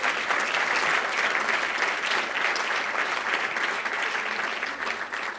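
An audience at a public event applauds steadily, a dense, loud clapping that fills the room throughout with no talk over it.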